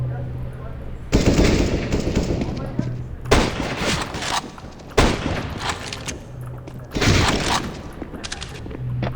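Automatic gunfire in the video game CS:GO, with loud sustained bursts of rapid shots in several long volleys separated by brief pauses.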